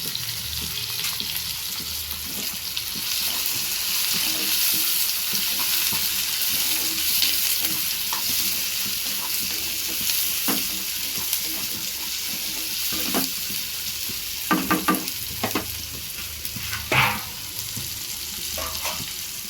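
Two onions and two tomatoes sautéing in a pan, giving a steady, fairly loud sizzle throughout, with a few sharper stirring scrapes near the end.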